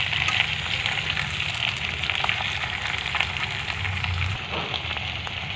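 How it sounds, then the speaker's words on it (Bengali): Potatoes and onions frying in a pan, a dense, steady sizzle with crackling that holds at an even level throughout, with no talk. "আলুটা মোটামুটি ভাজা ভাজা হয়ে গেছে"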